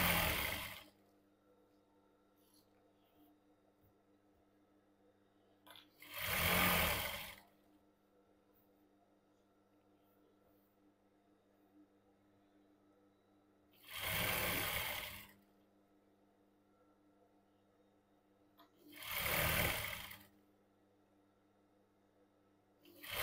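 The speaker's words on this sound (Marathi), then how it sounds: "समोरच्या भागावरती पाठीमागचा भाग ठेवून अशा पद्धतीने टीप घ्यायची आहे" A sewing machine stitches the back piece onto the front piece of cigarette pants in three short, fairly loud bursts of whirring run, separated by quiet pauses with a faint hum.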